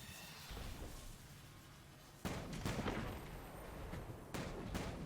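Grenade launcher fire in the Destiny 2 video game: a few heavy booming shots with rumbling blasts, the first landing sharply after a quieter stretch, moderately loud and without talk.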